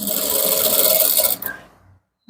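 A sewing machine stitching the pocket facing of an Ankara trouser, a dense fast whirring run that stops abruptly, followed by quiet and a brief bump at the end.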